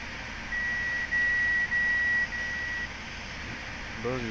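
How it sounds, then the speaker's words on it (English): An in-cab buzzer sounds during grain harvest, giving four sustained beeps in a row over a low machinery rumble. "Buzzer's going off."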